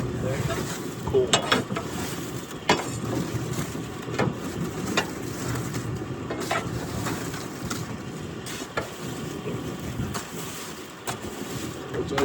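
Charcoal being raked and broken up inside an outdoor wood boiler on a cold morning, giving repeated scraping, clinking and crunching strokes at close range over steady wind and outdoor noise.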